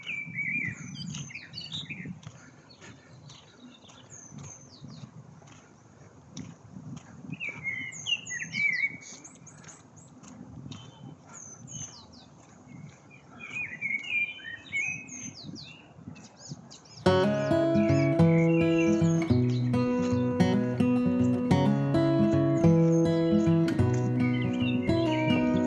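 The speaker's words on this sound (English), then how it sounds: "Birds are chirping." Birds chirp in a leafy park, scattered high calls over a low rumble of ambient noise for the first part, then loud music with a steady beat abruptly takes over and buries the birdsong.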